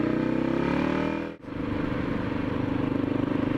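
A 1979 Yamaha XT500 single-cylinder motorcycle idles close by with a steady thumping chug, briefly dropping out for a moment before picking back up and running evenly.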